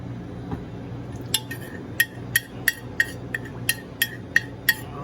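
A utensil mixes steak drippings with olive oil in a dish, clinking against it in a regular rhythm of sharp, close taps about twice a second over a quiet background.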